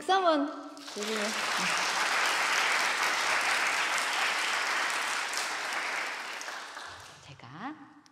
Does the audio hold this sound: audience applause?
yes